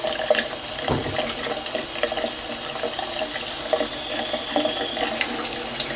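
Hot water runs steadily from a tap into a sink, a continuous close splashing flow lasting throughout with no talking.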